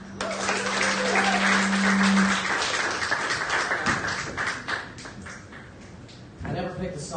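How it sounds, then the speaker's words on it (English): Audience applause for the band at a live acoustic music show at the Opolis venue, a full wash of clapping with a lingering held note at first, tapering before a brief renewed burst at the end. "let's give a round of applause for the band"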